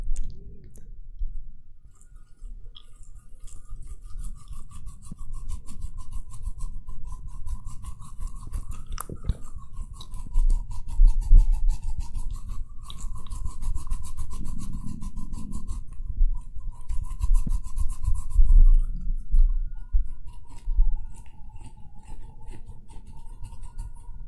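Close-up ASMR scratching right against a microphone, with fine raspy rubbing and clicking textures that rise and fall over a long stretch, over a faint steady tone.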